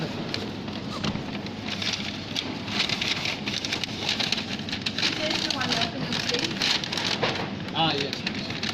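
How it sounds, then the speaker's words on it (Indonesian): Steady rain falling on surfaces, a dense continuous patter with individual drops tapping, a person faintly talking and birds chirping in the background. "Hujan lagi dito. Ya. Masih hujan."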